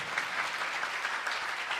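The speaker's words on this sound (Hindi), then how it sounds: "मारो तालियां उन्होंने लीडरां लई" A church congregation claps for its leaders, dense and steady applause filling the room at full strength for the whole moment, with no voices standing out.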